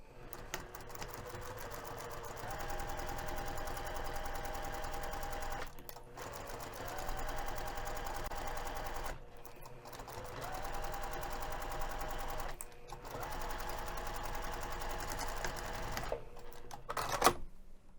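A sewing machine stitches the lining seam of a tote bag in long steady runs of rapid mechanical clatter, up close and loud, pausing briefly several times before a final clunk, with no talking.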